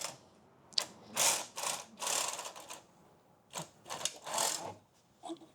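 A knitting machine carriage clatters across a Fair Isle row in a series of rapid mechanical sweeps and ratcheting passes, close and fairly quiet, separated by short pauses.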